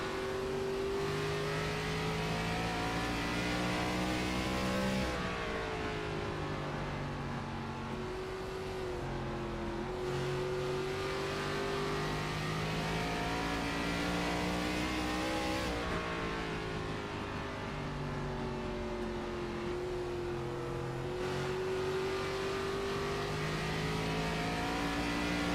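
Race car engine lapping Indianapolis Raceway Park's short oval, a steady high-revving drone that rises and dips in pitch with each throttle lift through the turns, loud and close throughout.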